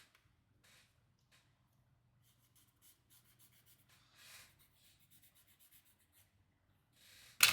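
Quiet, close scratchy rubbing strokes come in short irregular bursts, like sandpaper worked by hand, ending with a louder scrape.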